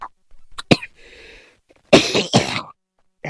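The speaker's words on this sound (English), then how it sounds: "I hate this cough." Several harsh coughs from one person, close and loud, a short cluster early on, then a pause with faint background hum, followed by a longer, heavier bout of coughing and throat clearing.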